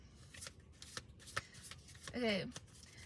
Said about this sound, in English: I'm just gonna shuffle them and then we're gonna begin